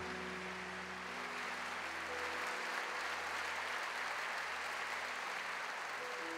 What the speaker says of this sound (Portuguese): Vamos aplaudir esse paralítico, gente.